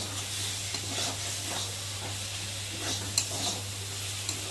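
Maggi noodles stirred with kitchen sauce in a frying pan, a steady soft sizzle with faint scraping of the spatula and a low hum underneath, close and continuous with no talking.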